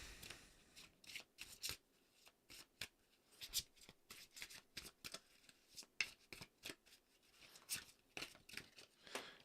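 Oracle cards being shuffled by hand, a quick run of papery riffles and slides repeating in uneven bursts, close and fairly quiet with no talking.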